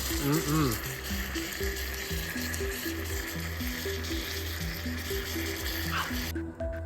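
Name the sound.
steaks frying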